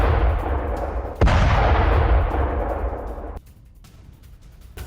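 Russian artillery fires at a target: a steady heavy roar gives way to a sudden loud blast, followed by a long rolling rumble that fades before cutting off abruptly to a quieter background.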